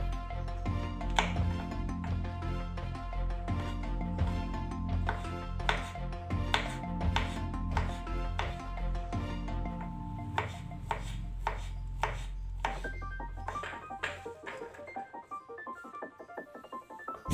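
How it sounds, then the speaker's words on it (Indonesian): Genjer (yellow velvetleaf) and mushrooms are chopped for a stir-fry, with a quick, regular run of knife strikes against a board. The chopping plays over background music and thins out toward the end. "Potong-potongnya sesuai selera ya"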